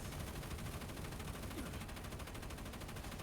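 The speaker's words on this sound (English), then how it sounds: "Now this is suppressive firepower." Rapid, dense automatic gunfire from the video game Terminull Brigade rattles continuously in a steady stream of shots during a boss fight, faint in level but unbroken, with no voices.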